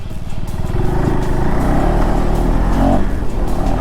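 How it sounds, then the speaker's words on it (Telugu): A KTM 390 Adventure X motorcycle accelerating hard off-road, its single-cylinder engine buzzing loud and close with a steady, rising drone throughout. "మీరు ఇట్లా ఎక్సిలేటర్ ఇస్తే ఇట్లా తిరిగిపోతుంది బండి."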